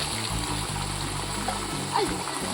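Water flows into a village water tank in steady rushing and splashing, a continuous close wash of sound with a brief louder splash near the end.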